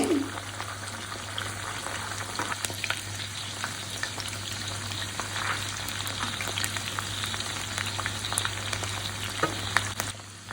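Chicken lollipops sizzle steadily in a pan over low heat, with a few scraping clicks as pieces are turned, plus a constant low hum underneath.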